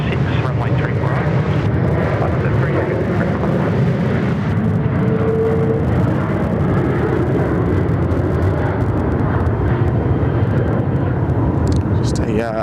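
A Rex aircraft climbs away from Sydney Airport with a loud, steady jet roar that fills the whole stretch and stays close and constant, while voices talk over the engine noise.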